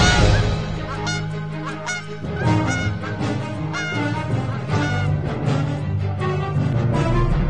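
Geese honk loudly and repeatedly in a dense, overlapping chorus, with flapping wings close by through the whole stretch, in a narrated children's Jack and the Beanstalk story.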